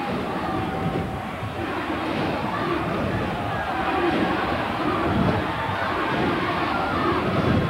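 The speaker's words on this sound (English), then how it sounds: "they're getting right behind them now, the crowd. Very vocal." A rugby league crowd at a 1992 Winfield Cup match between Gold Coast and Canterbury-Bankstown, a steady, loud roar of many voices that rises slightly and holds throughout.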